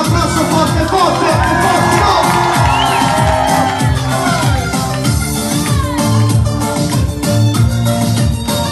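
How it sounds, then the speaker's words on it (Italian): Audience at a live outdoor concert cheering, whooping and shouting for a birthday guest, a dense, loud crowd roar over ongoing music, with children's shouts rising above it. "E cara tutta per il festeggiato con un mega applauso forte forte."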